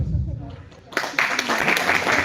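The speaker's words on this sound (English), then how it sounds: "A huge applause for you." Applause from an audience breaks out after a moment of low murmuring, a steady wash of clapping that continues to the end.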